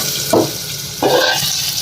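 A tempering of chilies, curry leaves and turmeric in hot oil for vegetable sambar: a loud, steady sizzling hiss that surges twice, close by, with no voices.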